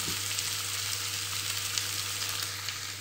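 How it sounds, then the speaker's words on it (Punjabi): Arbi (taro root) pieces frying in a pan, giving a dense, continuous sizzle at a steady moderate loudness under a low constant hum, with no talking. "ਹਰਦੀਆਂ ਨੂੰ 5 ਮਿੰਟ ਤੱਕ ਫਰਾਈ ਕਰਨਾ"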